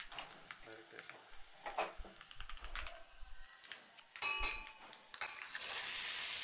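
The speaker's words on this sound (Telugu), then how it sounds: "ఇప్పుడు ఈ తాలింపును మరిగిన రసంలోకి వేసుకోవాలి." After a few quiet clinks, hot oil tempering with spices and asafoetida is poured into boiling pepper rasam, and a sharp, close sizzle swells toward the end.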